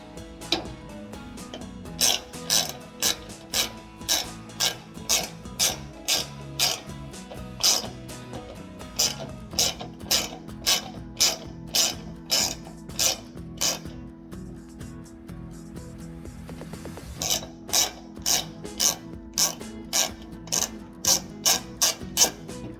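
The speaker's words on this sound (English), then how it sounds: "Seat the socket on the orifice. Turn it left to take it off." A socket wrench ratchets as it loosens a burner orifice on a GE gas range, producing a long series of evenly spaced close clicking bursts with a short pause midway.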